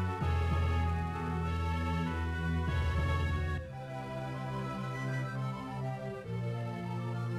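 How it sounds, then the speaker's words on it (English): Healing sound effect from the Golden Sun video game, heard as a steady, loud layered tonal chime with sustained harmonics and a brief shift in texture partway through, with no voices. "The sound you are hearing now is the universal sound of healing."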